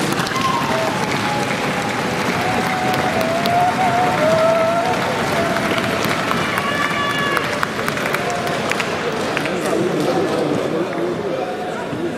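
Dense, steady applause from an assembly audience for newly elected members at the closing of an extraordinary national assembly session, filling the full stretch with a murmur of voices mixed in.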